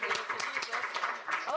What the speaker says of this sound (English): A big round of applause for Lena.